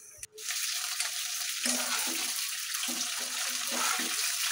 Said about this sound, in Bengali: একটা ফ্রাই প্যানে তেল গরম করে এখন সেই মুরগির হাত পাগুলোকে সুন্দর করে একটু ভেজে নেব